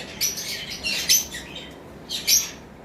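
Violet lovebirds at a breeding farm giving short, high-pitched chirps and squeaky calls in a few bursts, fairly close and clear, with no talking.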